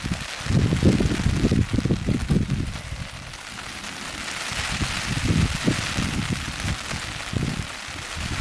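Rain on a tent during a windblown camping outing, a steady close patter of drops with heavier bursts of low drumming and gusts of wind buffeting the microphone, no talking heard.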